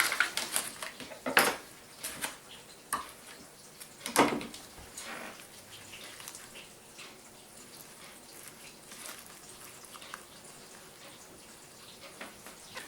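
A knife chopping lovage herbs on a board for stuffing a fish, heard as a few sharp knocks early on and then a soft, irregular run of light tapping and rustling, close and quiet, with no voices.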